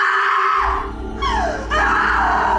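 A woman screams in a long, loud, wavering shriek that dips, breaks off briefly and then rises again, close and alone.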